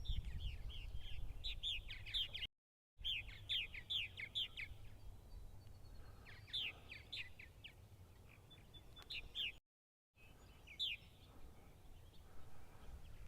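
Purple martins on eastern Long Island, New York chirp in quick, scattered bursts that sound fairly faint and distant, with steady outdoor background noise behind them.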